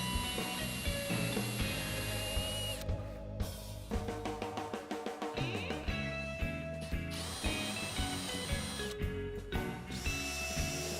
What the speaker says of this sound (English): I'm just going to counter bore, drill some larger holes, and then screw the brackets right into the seat